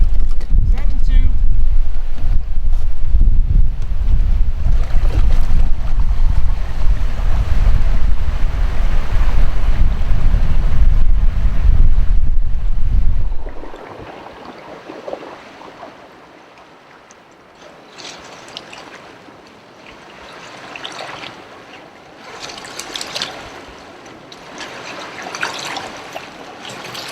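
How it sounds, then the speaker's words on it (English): Apex Watercraft Tyr boat running under a Torqeedo Ultralight 1103AC electric outboard, a loud rush of wind and water against the hull for about thirteen seconds, then a much quieter stretch with soft splashes and people talking. "It's certainly the most responsive boat that I've had this motor on."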